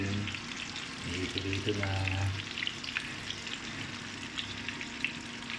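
KFC-style fried chicken sizzles steadily in hot oil, a dense close crackle running throughout, with a brief spoken voice over it partway through.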